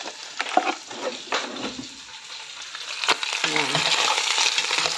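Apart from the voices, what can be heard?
ladling broth into beef cups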